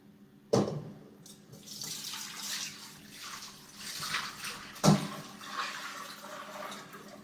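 Broth is poured into a 5-quart roaster, a close splashing and gurgling pour that starts with a sharp clunk, swells and ebbs, with another knock midway.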